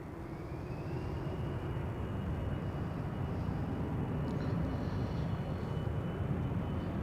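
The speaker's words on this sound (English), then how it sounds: "This is an Embraer 175 going to Rennes in France." An Embraer 175 jet departs Amsterdam Schiphol with a steady, loud, broadband engine roar that holds constant for several seconds, and no voices are heard.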